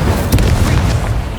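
A fire spell cast in the Hogwarts Legacy video game lands as a loud, full booming burst that rolls on for about a second and a half, with no talking.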